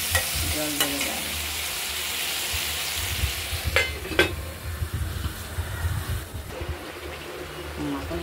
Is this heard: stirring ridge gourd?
yes